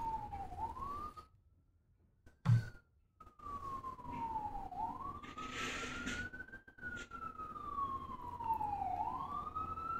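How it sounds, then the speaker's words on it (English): Early-morning emergency siren in Brooklyn, wailing up and down in long, steady sweeps over city traffic rumble, loud and continuous, with a brief pause partway through and no talking. "Those early morning Brooklyn sounds, the sirens, delivery trucks."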